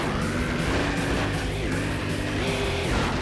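In the Vigilante 8 video game, a '70 Clydesdale car's engine catches and runs, a loud continuous motor drone whose pitch climbs and dips a few times, with no talk.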